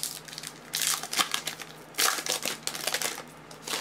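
The foil wrapper of a 2014 Sterling MLB baseball trading card pack is torn open, producing loud, close crinkling and ripping bursts in several uneven bursts with short pauses, no voices.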